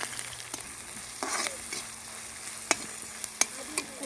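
Small-cut onion, coriander and green chilli frying in a pan in a village kitchen, a steady close sizzle broken by occasional scraping stirs and sharp clicks of the utensil, with no voices.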